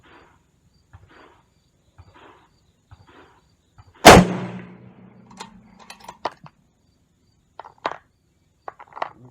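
A single sharp, loud crack from a .308 Winchester rifle fired at a target rings out mid-clip and decays, while quiet ticking and faint insect-like chirps fill the stillness before and after.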